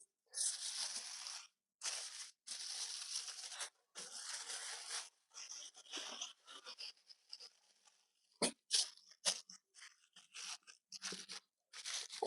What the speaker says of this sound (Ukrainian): І беремо кожний кусочок нашої підчеревини і замотуємо, друзі, все в фольгу.